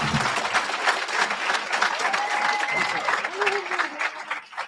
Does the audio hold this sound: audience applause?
yes